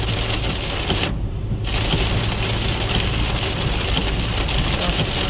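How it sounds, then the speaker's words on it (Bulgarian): Heavy rain pours onto a car and the road while driving, forming a loud, dense, continuous hiss and drumming that stays steady throughout with no voices. "Да, доста силно почна да вали."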